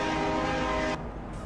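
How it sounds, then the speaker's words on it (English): Horn of a farm vehicle in Farming Simulator 22, voiced like a train horn: a steady, loud chord-like blast holding for about a second, then cutting off abruptly to a quieter engine hum. "I should have blown my horn. Like, sounds like a train."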